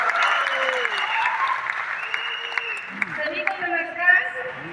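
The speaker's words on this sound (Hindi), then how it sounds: "एक बार जोरदार ताली हो जाए।" Applause from the audience at an Amway India Star Awards 2023 ceremony, continuous clapping with tonal sounds and voices mixed over it.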